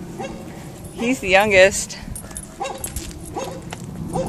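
Puppy on an outdoor walk whimpering and yipping, a cluster of high, wavering whines and short yips up close, with people talking throughout and brief yelps recurring later.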